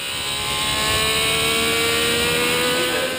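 A 1965 Honda RA272 Formula One car's engine holds a steady, high-pitched howl with sustained harmonic tones, loud and close, running alone without voices.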